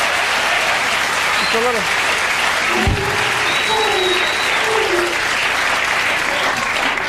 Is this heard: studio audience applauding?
yes